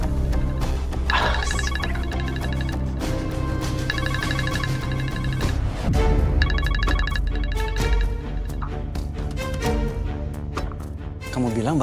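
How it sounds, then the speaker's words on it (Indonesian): A mobile phone rings nearby in a home, its ringtone repeating in bursts through the scene amid background music and movement, with no talking. "aku dengar suara handphonenya di sini loh"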